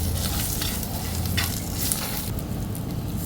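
Mustard seeds, curry leaves, chilli powder and turmeric sizzle steadily in a little hot oil, a continuous close frying hiss with occasional crackles and stirring.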